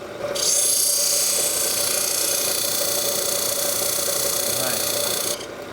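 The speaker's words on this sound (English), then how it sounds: "So now you're going to grind it just one more time to make it fit into the bracelet" A rotary grinder shaping a small stone to fit a bracelet setting gives a steady, loud high-pitched whine with a constant tone, running continuously for about five seconds before cutting off.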